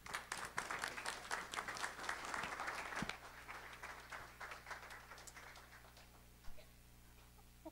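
Audience applause welcoming Professor Roger Vetter to a class session, a dense burst of clapping for about three seconds that thins into scattered claps and settles toward quiet.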